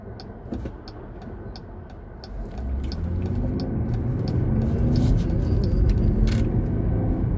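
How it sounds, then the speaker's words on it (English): Road traffic on a drive near Suwanee, Georgia: a continuous low rumble of passing vehicles swells louder partway through, with faint ticking noises above the broad tire and engine roar. "Lots of traffic."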